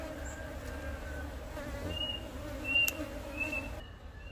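A large honeybee colony hums with a steady, low buzzing drone, while individual bees fly past close by now and then.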